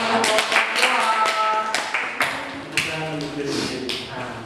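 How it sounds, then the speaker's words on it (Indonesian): Classroom students clapping for groups that have just presented their posters, a dense burst of many hands that swells and fades in waves, with some voices mixed in. "Kasih tepuk tangan untuk"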